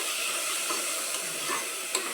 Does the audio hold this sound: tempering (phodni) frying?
yes